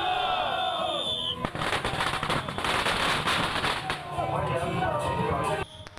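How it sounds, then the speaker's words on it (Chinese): Firecrackers burst in dense, continuous crackling volleys during a Mazu temple procession by Taoyuan's Longde Temple in Changhua, Taiwan. The barrage is loud and close and goes on without pause. "鞭炮声响彻云霄"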